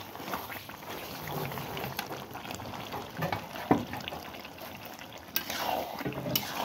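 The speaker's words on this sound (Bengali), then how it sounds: "নিচে দিকে যাতে লেগে না যায় সেজন্য মাঝে মাঝে এভাবে নেড়ে ছেড়ে দিব" Meat cooking in a pot is stirred now and then to keep it from sticking, giving soft, faint scraping and low bubbling under a steady background hiss, with a few louder knocks.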